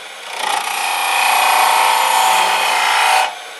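A wood lathe hollows out a wooden egg held in dovetail tower jaws, giving a steady, loud scraping and rasping hiss of the cutting tool against spinning wood for about three seconds before it stops abruptly.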